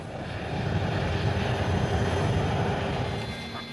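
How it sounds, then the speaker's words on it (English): An easyJet passenger airliner taking off on the Edinburgh flight, heard as a steady, broad jet-engine roar that stays loud and constant throughout with no voices over it. "And finally, the Edinburgh flight can take off."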